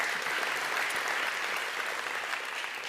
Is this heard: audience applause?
yes